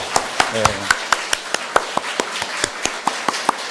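During a Korean church Sunday worship service, the congregation gives a round of encouraging applause. It comes as a series of sharp, evenly spaced claps that repeat steadily, with faint speech in the background.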